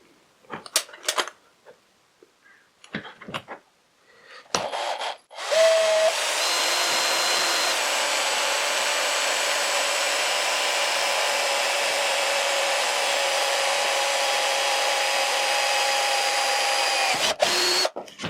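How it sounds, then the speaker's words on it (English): A few clicks and handling knocks, then a power drill whirs steadily and loudly for about twelve seconds before stopping, drilling through plywood and a metal hinge leaf. "I need to drill the plywood and the metal of the hinge leaf"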